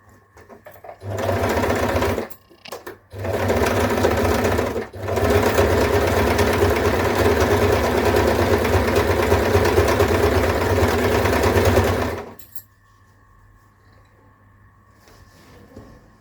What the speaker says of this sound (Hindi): इस तरह से रख के और इस पर एक सिलाई डालते हैं।